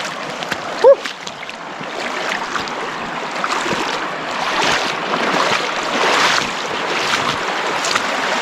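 A trail runner wades and splashes through deep, cold water on a trail, with continuous sloshing and churning water against steady wind noise, plus a brief vocal exclamation near the start.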